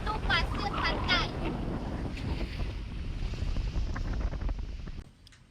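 On a sandy beach in Kecamatan Jangka, steady wind buffets the microphone over the broad wash of sea waves. A voice speaks briefly at the start, then the roar drops away near the end.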